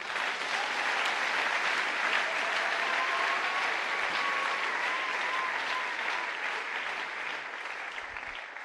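Church seminar congregation clapping together in praise, sustained dense applause from a large crowd that stays loud and fades slightly toward the end.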